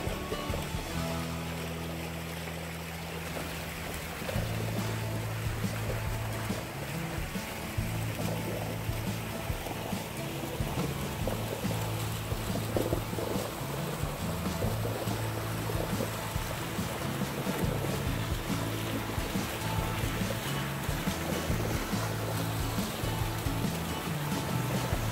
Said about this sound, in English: Here's a beautiful waterfall.